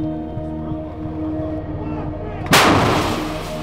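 M109 Paladin howitzer firing in the Toretsk direction in Ukraine, a single huge, sudden blast that follows a steady rumbling engine idle and then decays into a long roar.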